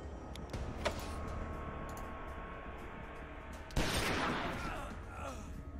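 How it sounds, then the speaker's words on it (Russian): Gunfire in the video game Wasteland 2. A low ambient hum and faint clicks lead to a sudden loud burst partway through, which decays into a hissing, rumbling tail that fades over the next second or two. "наверное, вот сюда надо выстрелить"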